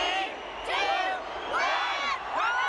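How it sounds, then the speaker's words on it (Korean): Crowd on New Year's Eve cheering and whooping at a fireworks display, loud swelling waves of shouts rising and falling close by in several bursts. "사람들의 환호성과 함께 불꽃이 밤하늘을 환하게 밝힙니다."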